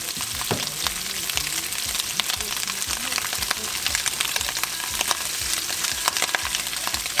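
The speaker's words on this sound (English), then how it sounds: "See, the meat is already turning brown a little bit because the oil is hot" Meat frying in hot oil, a steady dense sizzle and crackle with scattered pops, close and continuous throughout, with occasional faint stirring.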